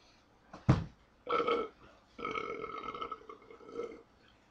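A voice imitates a Wookiee with a burp-like growl: a sharp short bark, then a throaty rising groan, then a longer wavering gravelly moan, each separated by brief pauses, close and fairly loud, with no other talk.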